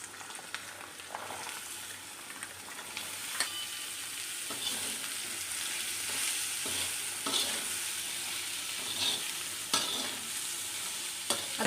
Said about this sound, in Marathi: आता आपल्याला हा फोडणीमध्ये टाकायचा आहे।